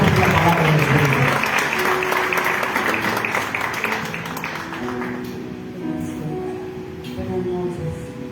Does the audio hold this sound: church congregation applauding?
yes